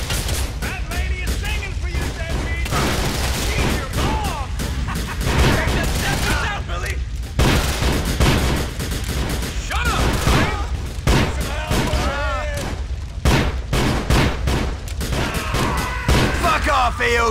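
Gunfire in GTA IV: The Lost and Damned, rapid volleys of shots and booming bursts rattling through nearly the whole stretch, with game characters shouting and talking over the shooting.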